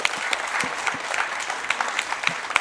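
A studio audience at a university information day claps for a short stretch, a dense, steady patter of applause with a few louder individual claps.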